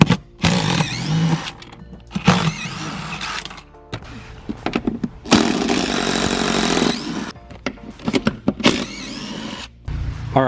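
A power tool whirs and ratchets in repeated bursts while removing seat bolts inside a wrecked 2018 Ford F-250, loud and close, with short gaps and mechanical clatter between runs.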